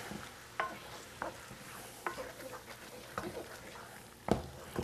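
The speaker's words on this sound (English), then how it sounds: "Get this all stirred up." Onions, peppers and wine stirred in a pot for shrimp étouffée, a spoon scraping and clacking against the pot at a slow, regular pace over a soft, close simmering sizzle.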